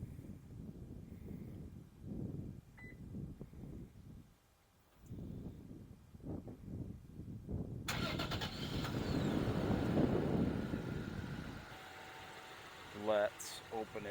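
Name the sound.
car engine starting by remote start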